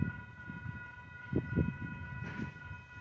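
A Union Pacific southbound local freight train led by locomotives rumbles at a distance, with a steady tonal horn or whistle sustained throughout over low, uneven mechanical rumbling.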